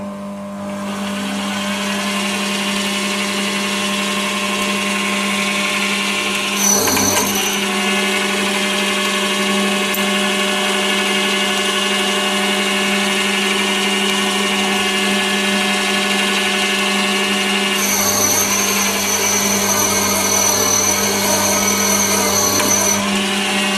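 A metal lathe fitted with a new four-jaw chuck runs steadily, giving a loud continuous motor whine and hum with tonal harmonics as it takes a cut, with brief louder changes in pitch partway through.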